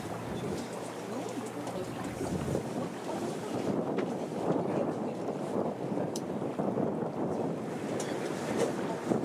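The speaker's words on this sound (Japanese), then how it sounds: "水上バイクやってきましたね。" A jet ski's engine drones across open water at Huis Ten Bosch, Japan, heard from an amphibious bus, amid steady wind buffeting and sea noise, the motor sound sustained and fairly distant.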